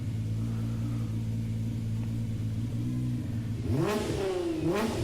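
Nissan GT-R race car engine in Gran Turismo Sport, a steady low drone that rises into two sharp revving sweeps near the end, loud and close with no talk.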